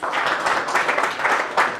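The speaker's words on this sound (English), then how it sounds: "Please give him a round of applause." A brief round of dense applause fills a charity gala ballroom at a London hotel, honouring a Nollywood actor, steady and close with overlapping hand claps and no pauses.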